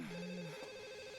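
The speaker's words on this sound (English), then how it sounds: "Someone's actually ringing the phone there." A telephone ringing in The Sims Deluxe Edition video game, a faint electronic ring tone with a steady pitched tone held through the short moment, no voices.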